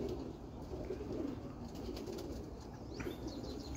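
Soft, low coos from roller pigeons, cocks and hens, repeat steadily over a dull rumble, with a few faint chirps and wing flutters now and then.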